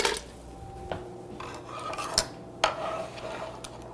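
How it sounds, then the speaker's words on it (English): Potatoes tossed into a cooking pot, heard as a few sharp clattering knocks and scrapes against metal spaced over several seconds, close and fairly loud with quiet pauses between. "we're gonna throw the potatoes in now"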